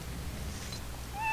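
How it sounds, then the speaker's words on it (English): A cat meowing in the Ancient Egypt city-building game Children of the Nile, a short rising meow near the end over a low ambient game background, with no talking. "So that's not one of my cats. That was in the game, actually, oddly enough."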